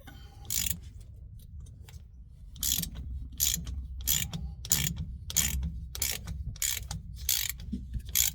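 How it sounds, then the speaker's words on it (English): Pittsburgh ratchet wrench working on the rear end of a Nissan Titan pickup, giving repeated sharp clicking bursts in a steady back-and-forth rhythm, close and fairly quiet with faint rumbling between strokes. "Pittsburgh wrench or ratchet works just as good as anything else"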